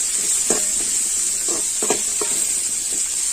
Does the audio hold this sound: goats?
no